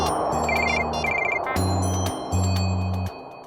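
An electronic phone ringtone plays a repeating melodic pattern of tones, steady and fairly loud, with no talking over it.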